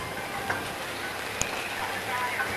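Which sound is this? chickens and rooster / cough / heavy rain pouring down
heavy rain pouring down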